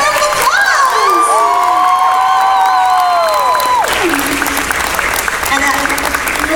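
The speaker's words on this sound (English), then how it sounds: "Come on, give her a big round of applause." A convention panel audience at Otakon bursts into loud applause, cheers and whoops for a Sailor Moon voice actress, with strong whistled or shrieked tones over the steady clapping crowd.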